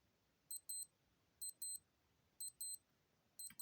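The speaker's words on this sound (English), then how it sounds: "when the alarm goes off, you get a nice beeping sound" A Casio AE1200 digital watch alarm sounds close up, repeating pairs of thin, high electronic beeps in a regular rhythm over quiet background.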